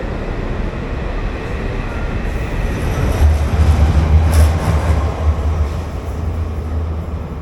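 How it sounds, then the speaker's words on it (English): A Shinkansen bullet train, an E5 series, moves through a station with a steady, broad rushing roar that swells slightly midway, no voices present. "this faster express service to Tokyo using a newer E5 series train with their iconic long nose design"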